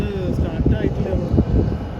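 A broad, steady roar of a Royal Air Maroc airplane's engines, fairly loud and continuous, with some low rumbling and faint voices mixed in.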